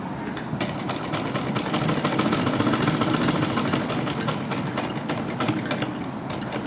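A sewing machine runs steadily, stitching the hem along the lower edge of a garment's back neck piece in a fast, even mechanical whir with a rapid needle rhythm and no talking.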